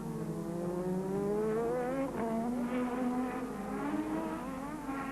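1986 Formula 1 race cars, Williams Hondas, scream past at high revs, one overtaking another; engine notes rise and shift through gears, loud and continuous with no speech.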